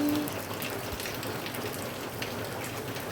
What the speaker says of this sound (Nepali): आज चाहिँ फाइनल्ली हाम्रो गाउँमा पनि पानी पर्यो